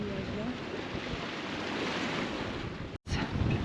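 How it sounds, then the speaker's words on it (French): Wind rises over a sailboat at anchor off Moorea in French Polynesia, a steady gusty rush mixed with lapping water, briefly cut by a short dropout near the end. "Le vent s'est levé."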